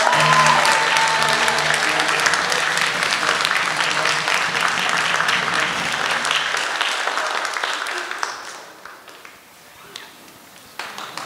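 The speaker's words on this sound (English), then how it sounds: "Can we have a round of applause for our winners, please?" A crowd at a Chinese New Year celebration and concert applauds prize winners, loud sustained clapping for about eight seconds that then thins to scattered claps and fades.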